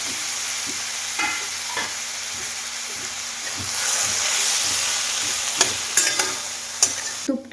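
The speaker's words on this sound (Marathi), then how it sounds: "कढईमध्ये हे तूप ओतलेलं आहे अर्धा चमचा आणि त्याच्यामध्ये हा खिसलेला आवळा" Grated amla sizzling in half a spoon of ghee in a steel kadai, stirred with a steady series of scraping strokes over a continuous hiss that rises midway, close and fairly loud, with no talking.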